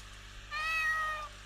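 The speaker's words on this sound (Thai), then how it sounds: "อุ้ยเฮียแมวคิตตี้" A single cat meow in a horror video game, a clear drawn-out mew of about three quarters of a second over a low steady background hum.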